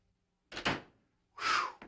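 A front door closes in a house, two quick solid thumps about a second apart, close and clear with silence around them.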